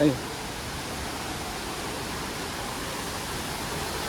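Steady, broadband rushing of falling water from the Huai Luang waterfall in Thailand, continuous and fairly loud, nearby with no pauses.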